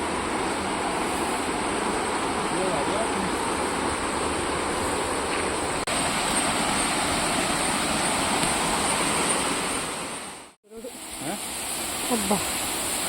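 A waterfall near Mangalore roars as a steady broadband rush of falling water, loud and constant, briefly dipping near the end before resuming.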